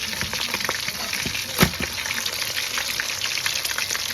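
Jamaican escovitch fish fries in hot oil with a steady, close, bright sizzle and a single sharper pop partway through, with no voices.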